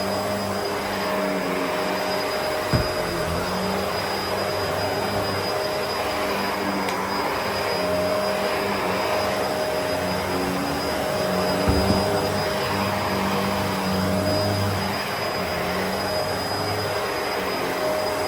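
A Bissell vacuum cleaner runs steadily on carpet throughout, a constant motor drone with a thin high whine and no pauses.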